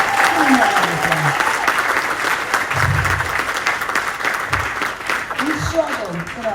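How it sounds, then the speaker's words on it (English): A crowd at a Los Angeles Black History Month event with the mayor claps in steady, full applause that lasts throughout, with a few faint voices underneath. "Give him a round of applause."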